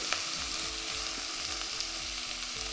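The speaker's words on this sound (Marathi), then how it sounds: "इथं तुमच्याशी बोलता बोलता कोबी मस्त असा मोठ्या आचेवर परतला" Shredded cabbage sautés in a pan over a high flame, a dense, steady sizzle and crackle close up, with a faint repeating low thump underneath and no voices.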